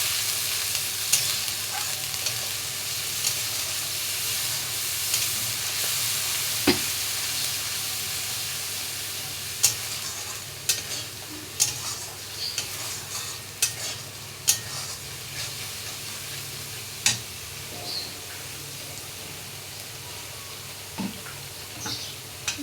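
Green banana kofta mixture being stirred in a frying pan, a steady hissing sizzle with repeated sharp scrapes and taps of the spatula against the pan.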